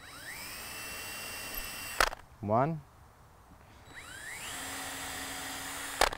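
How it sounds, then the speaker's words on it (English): A power drill bores a short pilot hole for an exterior shutter hinge, a brief close whine rising in pitch, with a voice counting over the steady background. "We're going to drill a pilot hole in each hole."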